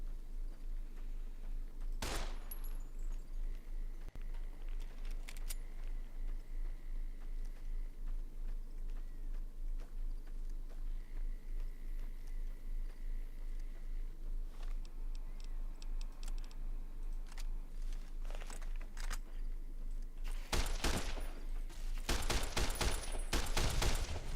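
Rapid bursts of gunfire in the Fallout: New Vegas video game, with a few sharp shots early and a dense volley near the end over a steady background hum.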